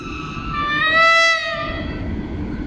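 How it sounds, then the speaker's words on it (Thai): Special suburban train 390, running from Chachoengsao Junction to Bangkok Hua Lamphong, sounds a clear multi-tone horn that swells and bends in pitch as it passes, over a steady rumble of the train on the rails. "วันนี้ผมจะเดินทางกับขบวน 390"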